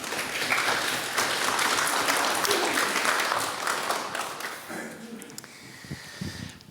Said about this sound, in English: giving yourselves a huge round of applause